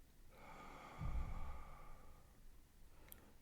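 A single slow, gentle breath, drawn in softly and let out in a quiet sigh, close and faint, with no talking, during a calm somatic resourcing exercise.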